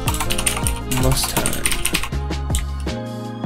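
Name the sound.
typing on a computer keyboard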